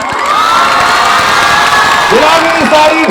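A large outdoor crowd at the Aapla Kalyan Mahotsav cheers loudly for a singer, a steady dense roar of shouting voices with a few whoops rising near the end; clapping is not distinct within the din.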